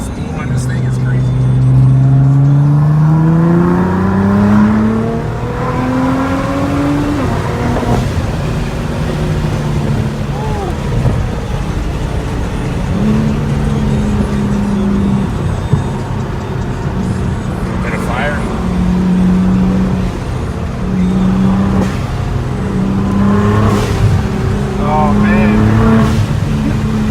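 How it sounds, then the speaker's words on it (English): Inside a Nissan GTR, the engine rises and falls through several gear pulls as the turbos spool, a loud rising drone throughout, with people talking over it. "you listen to this turbos when they spool on this thing, it's crazy."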